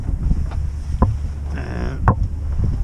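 Strong wind gusting around a sailing boat at sea, a loud continuous rushing buffet against the microphone with a few sharp knocks and rattles of rigging, no voices.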